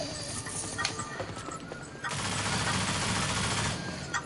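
Gunfire during a 6v6 team deathmatch in the video game Rogue Company, dense rapid shots and clatter forming a steady loud wash that swells after a couple of seconds, with game noise underneath.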